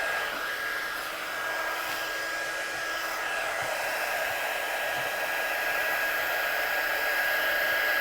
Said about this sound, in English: when you're using embossing powders, just let your gun heat up a little bit first